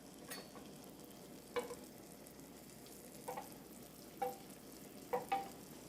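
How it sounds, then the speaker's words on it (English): Onions go back into a pan with frying ossobuco meat, a faint low sizzle under a few soft utensil knocks and stirring scrapes. "Okay, so we can add our onions back in."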